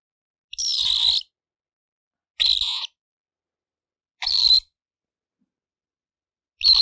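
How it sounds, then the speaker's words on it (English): Pet cockatiel screaming in four harsh, high calls at a steady, evenly spaced rhythm, each under a second long, close to the listener with silence between. "That's my little screaming bird."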